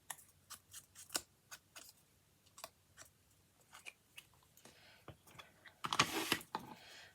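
Scissors snip paper during card making, a series of short crisp cuts in an irregular rhythm, close and quiet, ending in a louder rustling burst of paper handling.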